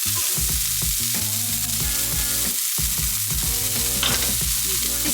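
Food stirred and sizzling in a pan during home cooking of a Hakkasan restaurant food box, with steady frying hiss and scraping utensil strokes throughout, close and fairly loud, with no talking.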